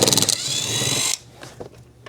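An impact wrench loosens the front seat bolts of a Jeep Gladiator in a loud, close burst of rapid hammering that stops after about a second, followed by a few faint clicks and handling noises.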